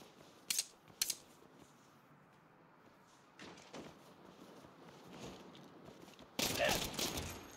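Gunfire in the Saints Row video game: two sharp shots early on, then scattered bursts of weapon fire and a louder volley near the end, heard over low game ambience without talking.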